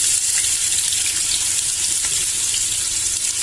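Onions hit a hot pan and sizzle loudly, a dense continuous frying crackle that holds steady throughout with no voices.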